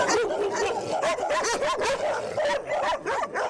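Several dogs in an animal shelter bark, yip and whine in a constant overlapping chorus, close and loud throughout, with no pause between calls.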